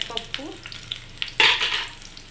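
Garlic cloves with chana dal and urad dal frying in oil in a pan, a steady close sizzle broken by a few scrapes of stirring and a louder burst of crackling partway through.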